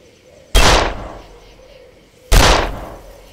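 Two loud, sharp rifle shots ring out about two seconds apart as an old rifle is sighted in within the Darkest of Days video game. Each crack decays into a reverberant tail.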